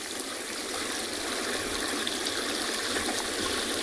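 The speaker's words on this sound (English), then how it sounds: "There's something very soothing about the sound of that water, the mini waterfalls of Chitwa Dam." Steady, unbroken rush of water spilling over the small cascades of Chitwa Dam on a safari reserve, a broadband wash at constant level with no voices over it.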